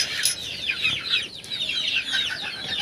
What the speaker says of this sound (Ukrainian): А оці курчатка, дивіться, що роблять, верещать.